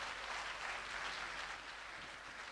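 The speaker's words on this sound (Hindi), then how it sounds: "तो पुराने मोहब्बत के लिए तालियां बजा देना आप एक दफा भरपूर।" An audience at the Mehran University Alumni Association annual function in 2010 gives a round of applause. The clapping is faint and distant, a continuous rain of hand claps at a steady level with no voices over it.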